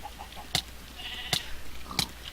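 Sheep bleating in the Minecraft video game, three short bright calls spaced about a second apart over a faint steady background, fairly quiet and with no talk.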